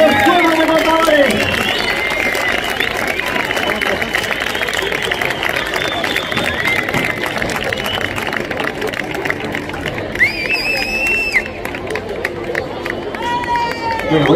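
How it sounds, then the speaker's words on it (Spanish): Crowd at an outdoor bullfighting festival in Valsaín applauding four recortadores, sustained clapping and cheering under a loud announcer's voice, with whistles and shouts rising through the mix. "¡Fuerte el aplauso de Salín a estos cuatro recortadores!"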